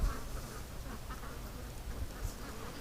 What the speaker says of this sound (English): And those ducks are freaked out about something.